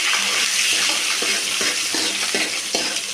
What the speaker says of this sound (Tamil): உளுந்தும் நல்லா பொரிஞ்சு வரும்